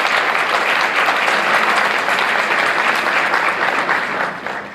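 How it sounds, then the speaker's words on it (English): An audience applauds a panel at a 2015 Leadership Day event in Winchester, with dense, steady clapping that holds for several seconds before starting to taper at the end. "So another round of applause for our panel, please."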